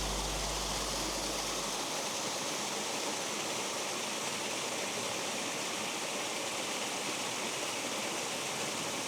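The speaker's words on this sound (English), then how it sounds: "Just come across this little waterfall that's coming down from the mountain side" A small waterfall runs down a mountainside in the Wicklow Mountains, giving a constant, full rushing roar that stays even and close throughout, with no voices.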